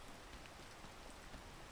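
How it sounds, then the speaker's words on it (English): Steady rain falls in the video game PEAK as a dense, even hiss of drops with no pauses, faint and continuous throughout with no voices. "I'll wait until the rain stops."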